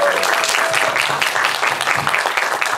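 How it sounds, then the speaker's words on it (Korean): Audience applause at a film stage greeting in a small independent cinema, a dense, close clapping wash with voices and cheering mixed in throughout. "박수 부탁드릴게요."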